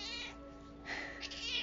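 A cat meows twice in close, clear calls during a quiet guided astral meditation session indoors, the second call rising louder and more drawn out.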